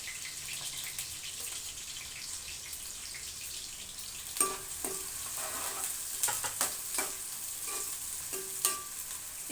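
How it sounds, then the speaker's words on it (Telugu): Green chillies and onion fry in oil in a pan for a Telugu crab curry, a steady crackling sizzle with occasional louder spits and pops, close by and without speech. "తర్వాత పచ్చిమిరపకాయ వెంటనే వేసేసుకోవచ్చు."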